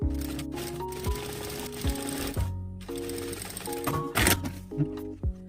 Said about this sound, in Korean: 이 상태로 해서 이번에는 파이핑 심에 최대한 가깝게 박음질 해주세요.